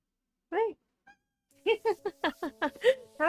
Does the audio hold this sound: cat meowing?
yes